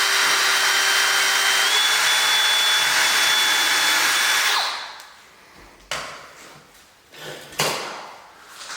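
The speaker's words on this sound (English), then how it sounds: "We're going to drill us a couple holes here" A power drill whirs steadily with a 3/32-inch bit while boring holes for a pocket door lock strike plate, then stops, leaving a few faint handling clicks and bumps.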